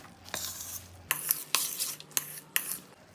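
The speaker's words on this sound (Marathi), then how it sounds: "आता याच्यामध्ये आपण सगळं हे जे कटिंग वगैरे करून ठेवलं आहे ते टाकून देऊ आणि याला मिक्स करूयात" A spoon stirs chopped ingredients in a pan for a quick ketchup snack, giving sharp scraping clacks at irregular intervals over a faint background hum, close and fairly quiet.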